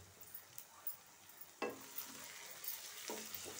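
Egg fry with turmeric is stirred in a pan, a faint sizzle under several distinct spoon scrapes and clinks against the metal, quiet and close with no voices.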